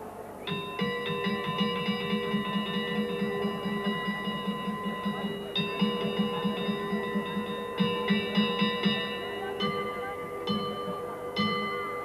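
Church bells of Teruel, Aragon, ring an ordinary-day peal: repeated clustered strikes in a steady rhythm with a low humming bell beneath, fairly loud and ringing alone.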